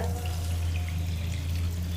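Water streams steadily into a cooking pan while making malai kofta gravy, a soft continuous pour over a low constant hum, close and unbroken with no talking.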